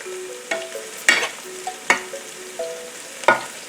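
Onions and garlic sauté in a pan with a gentle sizzle, broken by four or five sharp scrapes and clacks of a utensil stirring, spaced irregularly. No talking.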